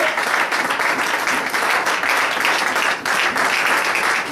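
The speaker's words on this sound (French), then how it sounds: "acclame l'homme de Dieu, acclame la parole de Dieu" A church congregation at a Saturday seminar of Eglise La Révélation de Dieu Christ le Rocher applauds loudly and steadily, dense clapping from a crowd close by, keeping up without a break.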